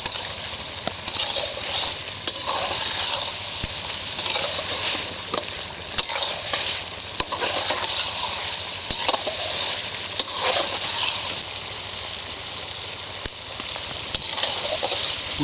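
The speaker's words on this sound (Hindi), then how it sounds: "अब तकरीबन 5-6 मिनट के लिए भूनते हुए पका लेंगे।" Chicken for a street-style Cholistani chicken karahi fries and is stirred in the karahi, giving a steady close sizzle with frequent scraping stir clicks throughout and no talk.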